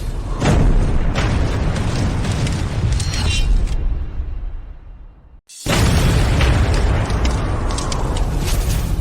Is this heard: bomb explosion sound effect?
yes